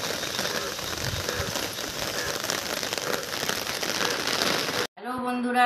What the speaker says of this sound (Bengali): তোমরা দেখতেই পাচ্ছ সকাল থেকে বৃষ্টি পড়েই যাচ্ছে